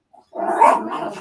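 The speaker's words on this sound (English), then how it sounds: "my dog making noise too right now" A dog lets out a single close, loud bark that trails into a brief growling rumble, after a faint yip just before it.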